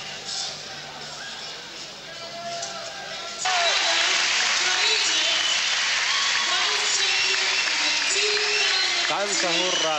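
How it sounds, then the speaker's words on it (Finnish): Spectators at the 2003 wrestling world championships in Créteil, France, cheer and applaud ahead of the 96 kg final, a moderate crowd that swells abruptly into loud, sustained roaring applause filling the arena. "Kansa hurraa Kreteissä"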